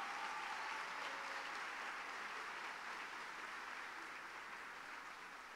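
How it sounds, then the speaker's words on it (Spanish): Applause from an audience at a youth excellence award ceremony for a basketball player, a steady wash of many hands clapping, heard from a distance and softly, fading slightly toward the end. "Un aplauso para Ángel Luis Delgado."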